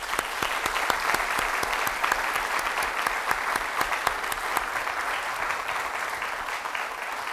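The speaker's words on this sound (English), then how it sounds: "Please join me in a round of applause for this outstanding couple" Lecture-hall audience applauding an honored couple, sustained even clapping with sharp individual claps standing out near the start, continuous and moderately loud, no talk.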